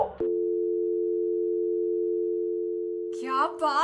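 A steady, loud phone tone holds for about three seconds right after a call is cut off in a comedy short, then stops as a voice begins speaking.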